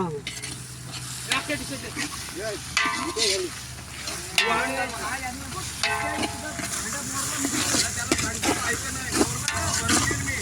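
Garlic frying in a pan gives a steady close sizzle with stirring and scraping, while people talk over it throughout.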